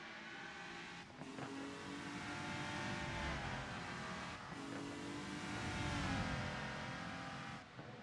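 Race cars sweeping through the Nordschleife in a racing video game, one overtaking another: a steady, loud engine drone with rising and falling revs, briefly dipping twice as the cars pass, no talk.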